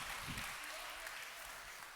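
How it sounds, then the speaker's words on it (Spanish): A congregation claps together at a church service, a soft, steady wash of applause from a distance that holds evenly for a couple of seconds. "Denle un aplauso al Señor."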